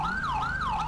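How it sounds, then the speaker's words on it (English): A CENTCOM Sapphire police siren in GTA V with the LSPDFR mod wails in a fast, smooth rising and falling sweep, loud and close, repeating through the brief moment over a low engine rumble. "It is the CENTCOM Sapphire siren"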